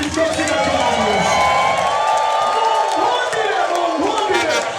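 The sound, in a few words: church congregation cheering and ululating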